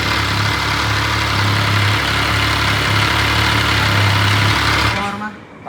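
A big bike motorcycle engine idles steadily, a loud, close, low throbbing rumble that holds for about five seconds and then cuts off.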